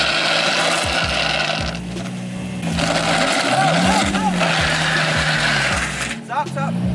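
A manual-transmission car creeps slowly back and forth while being maneuvered, its low engine note rising and falling with throttle changes under steady background noise, with voices nearby.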